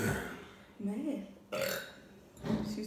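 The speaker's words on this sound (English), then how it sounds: "Excuse us for all these burps in advance as well." Loud, drawn-out burps after drinking Pepsi during a couple's burping challenge, three croaking bursts in a row, close to the listener.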